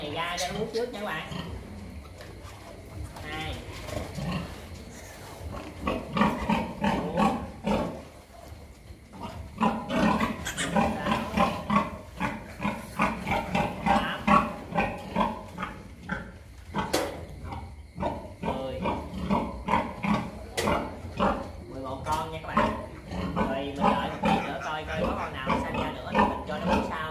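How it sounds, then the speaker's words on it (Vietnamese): A litter of eleven piglets squeals and grunts as they suckle from a sow on a pig farm, with busy overlapping squeals close by and a person talking over them. "Mình thả cái đàn heo con này ra cho nó bú trước"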